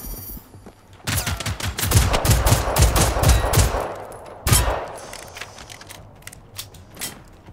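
Heavy battle clamor from Generation Zero as army tanks fight robots: loud rapid volleys of gunfire and mechanical clanks building into a sustained barrage, a sharp blast midway, then fading to scattered distant shots.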